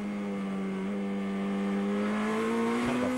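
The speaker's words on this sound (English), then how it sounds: "Flatulent engine note there." A GP2 race car engine at the 2007 Valencia round gives a loud, steady, flatulent drone, its pitch rising gradually as it accelerates, with no commentary over it.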